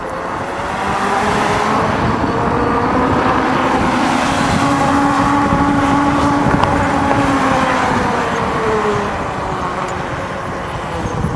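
A Sondors electric bike rides along with a steady, loud motor and rolling hum, mixed with heavy wind rush, continuous and near throughout without talk.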